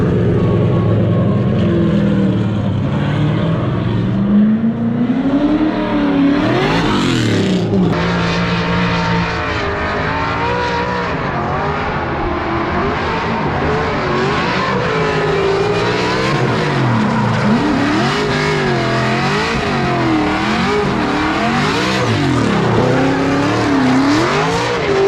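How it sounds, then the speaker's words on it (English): A drift car laps an oval track, its engine revving up and down in sweeping waves, loud and close, with a sharp burst of tire noise early on and continuous engine roar throughout. "Car is on the move."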